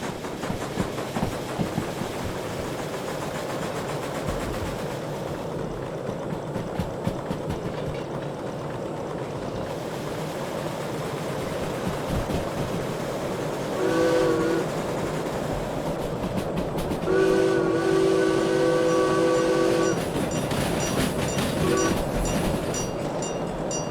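An S282 steam locomotive in the railway game Derail Valley rolls along with a continuous rumbling, clattering drone, steady and fairly loud throughout, with brief tonal squeals or whistles breaking through near the middle and later.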